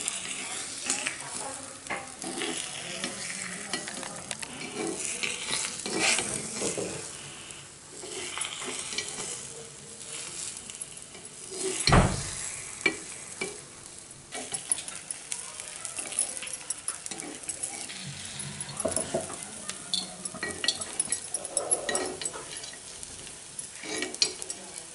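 Egg paniyaram fries in a pan and is turned, bubbling oil sizzling steadily beneath scraping stirs and metallic clinks of a utensil against the pan, close and busy throughout.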